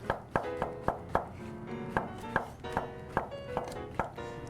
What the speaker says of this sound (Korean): 버섯도 이렇게 썰어갖고 어슷 썰어주세요